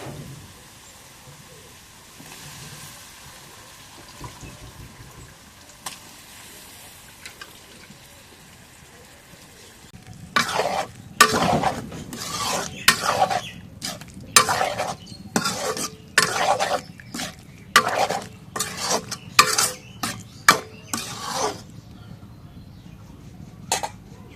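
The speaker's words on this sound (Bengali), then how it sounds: "এখন মশলাগুলো কষা হয়ে গেছে সাবুন বড়িগুলো দিয়ে দিই" Dried lentil dumplings (bori) are stirred into spices frying in a pan, bringing a quick series of loud scraping, clattering stirs after a quieter stretch of soft low sizzle.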